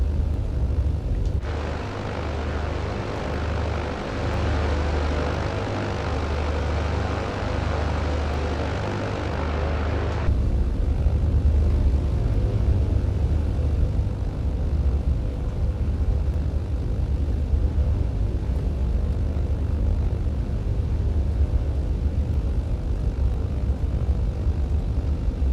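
A Britten-Norman Islander propeller plane in Microsoft Flight Simulator revs up for takeoff, a steady loud droning engine hum that swells partway through and holds, no voices over it.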